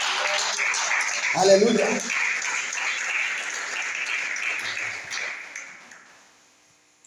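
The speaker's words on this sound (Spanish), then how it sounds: "El que lo crea, déle ese aplauso al Señor." Congregation clapping during a Spanish-language church service, a broad burst of applause with a voice calling out over it, fading gradually to near silence by the end.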